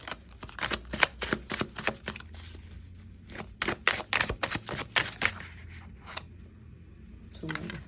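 Tarot cards being shuffled, flipped and picked from a deck, a rapid run of crisp papery snaps and slaps up close that trails off into quieter handling, with no talking.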